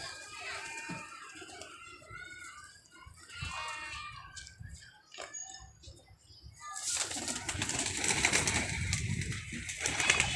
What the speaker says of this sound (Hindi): कबूतर भी दिखाते हैं आपको, जोड़े भी दिखाते हैं